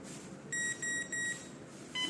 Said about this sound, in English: until you hear the beeps